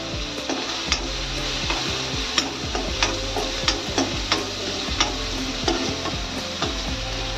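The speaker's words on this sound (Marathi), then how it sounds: "कढीपत्ता थोडा चटचटला काय मग आपण कांदा घालूया त्यामध्ये" Onion frying over high heat in hot oil with curry leaves, a steady close sizzle broken by regular stirring scrapes and light taps of a spoon against the pan.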